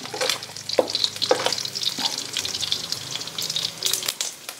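Pork pieces fry and sizzle in their own rendered fat until golden brown for binagoongan, with crackling spatter and occasional stirring scrapes through the pan, fairly close.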